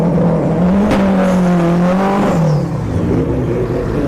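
Drag racing cars, including a big turbo Civic, accelerate hard at a motorsports park, a loud near engine whine climbing and shifting in pitch over a steady roar.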